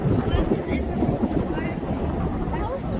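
Strong gusty wind buffeting the microphone in a continuous low roar, loud and close, with some muffled talk mixed in.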